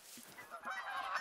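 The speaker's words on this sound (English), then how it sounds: "we got some more geese coming in here" Geese honking in The Hunter Call of the Wild hunting game, a quick burst of several nasal honks overlapping as a flock flies in, brief and moderately faint.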